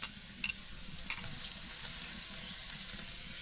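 Garlic and ginger paste sautés for duck curry in a pot on a clay stove, a steady soft sizzle with a few faint scraping stirs, low and continuous, no voices.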